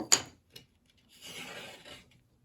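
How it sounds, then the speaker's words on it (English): A scraper pulls glue off a reinforcement ring installation: a sharp scrape, a brief second tap, then a longer rasping drag, close and alone against silence. "you use that to scrape your glue off"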